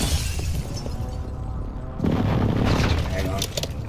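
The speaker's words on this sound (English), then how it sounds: "Hostile airstrike incoming." In a battle royale video game, an airstrike drops heavy booming explosions that swell midway and rumble on as a dense, loud barrage, with players talking over it.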